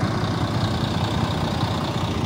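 Volvo B12M Plaxton Panther coach with an uprated engine, idling with a steady low rumble and a faint mechanical hum, unbroken and free of talk.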